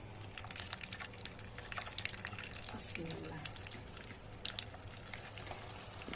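Soya chunks frying in oil in a home kitchen, a soft, steady sizzle and bubbling hiss running throughout at low volume, with faint clinks and handling noises over it.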